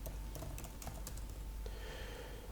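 Fingers type on a computer keyboard while writing code, a quiet, close run of quick irregular key clicks with short pauses, no voices over it.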